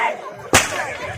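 A single sharp, loud Diwali firecracker bang goes off during a Tamil stage comedy drama, cutting abruptly through a quieter hall background.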